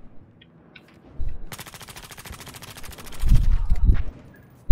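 Gunfire in the Battlefield Hardline multiplayer video game comes as a fast, steady automatic burst of rapid shots, followed by heavier booming impacts and a final loud blast.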